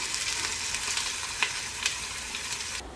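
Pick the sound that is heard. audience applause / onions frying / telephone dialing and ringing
onions frying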